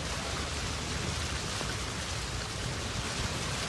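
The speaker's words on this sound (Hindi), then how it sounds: "मॉनसून की बारिश और बारिश ने गुजरात के ज़्यादातर हिस्सों का हाल कुछ ऐसा कर दिया है।" Heavy monsoon rain pours over flooded city streets in Rajkot, Gujarat, a dense, continuous hiss of falling water at a steady, fairly quiet level with no voices.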